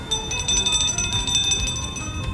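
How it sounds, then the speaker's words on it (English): A small bell rings rapidly and repeatedly in a bright, jingling rhythm, fairly close, over soft background music. "he shouted as he rang the bell louder"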